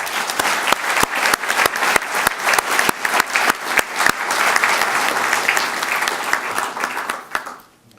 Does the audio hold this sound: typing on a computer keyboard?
no